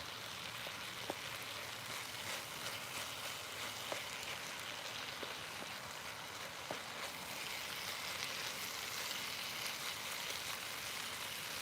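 Peppers and tomatoes cooking in a pan give a steady, even sizzle that holds throughout, with a few faint ticks.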